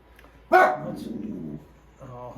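A pet dog named Jar barks indoors near a vintage Singer 301 sewing machine, one loud close bark followed by a rougher, trailing growl-like bark and a softer yip at the end.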